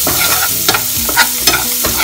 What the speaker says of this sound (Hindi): उसको अच्छे से मटर को फ्राई होने देंगे।